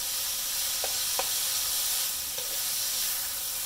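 Pork ramen stir fry cooks in a pan with a steady, close hiss of sizzling and a few soft stirring clicks, no talking.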